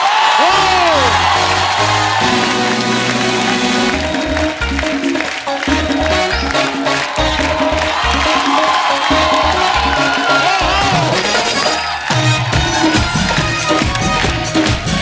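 Loud studio audience cheering, whooping and applauding as Deepika Padukone is welcomed on The Kapil Sharma Show, a dense sustained roar with music underneath and shouts rising throughout.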